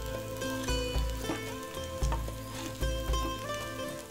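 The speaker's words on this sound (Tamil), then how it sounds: "எப்போதுமே கட்லெட் எல்லாம் பண்ணுறப்ப பார்த்தீங்கன்னா கொஞ்சம் கூடுதலாக எண்ணெய் விட்டால் தான் நல்லா வேகும்" Cutlets shallow-fry in a generous amount of oil with a steady, close sizzle, broken by a few dull knocks as they are turned in the pan, with no talking.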